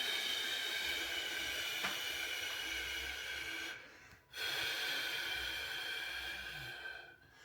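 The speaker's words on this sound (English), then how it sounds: "we're going to blow all of the air out" A person forcefully exhales to push every bit of air out of the lungs for a vacuum pose, giving soft, breathy blowing with a brief pause in the middle.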